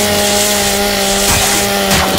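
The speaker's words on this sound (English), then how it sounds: "Yeah. Easy chainsaws." A chainsaw revs steadily in the Gears of War 5 shooter game, a loud, dense, buzzing roar held for about two seconds with slight surges, no talk.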